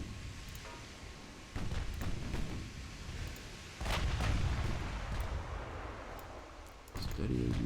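Heavy 7-inch naval guns boom in a battleship game, several deep rolling blasts about two seconds apart, each followed by sustained rumble and a dense wash of background battle noise.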